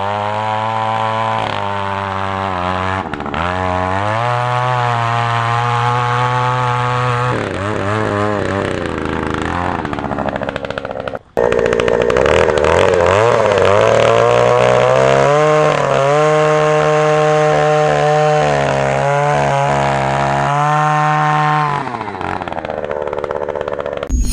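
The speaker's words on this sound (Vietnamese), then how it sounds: "Đây là cách khoan, một người khoan." An Oshima earth auger run by one operator drills planting holes, its small two-stroke engine roaring loud and close, revving up and down in long sustained bursts with a brief cut midway.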